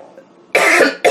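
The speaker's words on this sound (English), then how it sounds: "Still have a little bit of a cough" A person with a lingering cough from a cold lets out two loud, close coughs in quick succession after a quiet breath.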